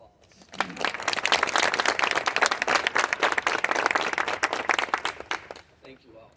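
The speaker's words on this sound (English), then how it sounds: "Please join me in giving them a round of applause." Audience applause at a school groundbreaking ceremony, a burst of many hands clapping that swells quickly, holds steady and dense for several seconds, then tapers off near the end.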